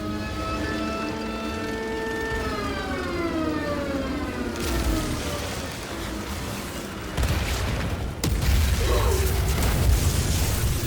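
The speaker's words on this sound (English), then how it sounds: "Artillery support incoming!" An artillery strike lands in the Outriders video game, a rising whine followed by heavy booming impacts and rumbling blasts that carry on loudly to the end.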